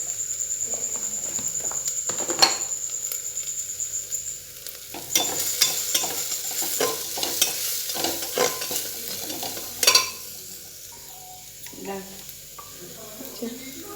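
Ghugni, a spicy chickpea curry, is sautéed and stirred in a pan: a steady sizzle runs under repeated scraping strokes, with some talk in the background.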